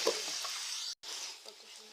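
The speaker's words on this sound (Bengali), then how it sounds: "তো এইভাবে আমি সবগুলো পরোটা ভেজে নেব।" A paratha frying in a pan gives a steady hissing sizzle, close and soft, with a brief cut in the middle and lighter crackle afterward.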